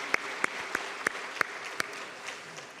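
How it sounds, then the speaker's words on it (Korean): Sparse, fairly distant applause from a church congregation for Sunday school teachers and staff, a handful of separate claps spaced out and fading toward the end, with no talk. "또 앞장서서 이렇게 수고한 교회 학교 교사들 또 스태프들에게 격려의 박수 한번 보내주십시오"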